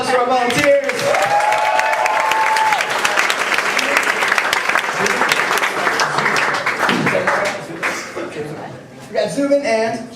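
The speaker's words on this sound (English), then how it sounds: "let's get a round of applause for our volunteers" Audience applause and some cheering for volunteers joining an improv comedy show, loud and continuous for about ten seconds, with a few whoops, fading near the end as a voice comes in.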